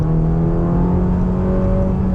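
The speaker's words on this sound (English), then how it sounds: "This is a car that should purr with a satisfying V8 burble going on, but often it actually sounds like a NASCAR" A 2021 Ferrari Roma's V8 engine runs with a loud, steady, droning rumble from close by, holding an even tone with a slight rise and no voices over it.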